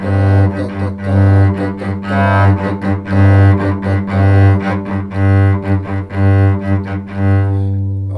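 Bowed cello playing a steady, rhythmic slurred passage of connected notes in groups, starting on an up bow, close and clear, with no talking.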